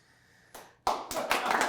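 After a quiet pause, a few sharp claps break out at a book launch event, quickly joined by more hands into a brief, close burst of clapping.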